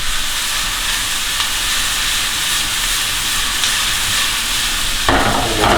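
Tomatoes and vegetables cooking in a pot for Caribbean steamed fish give off a steady, dense sizzle and steamy hiss that holds evenly throughout, with a slight surge near the end.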